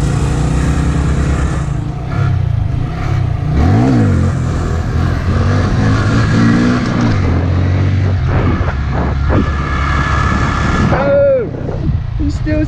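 Honda Grom motorcycle engine running close by at a wheelie and stunt spot, a steady loud drone with brief revs rising and falling, while people talk over it.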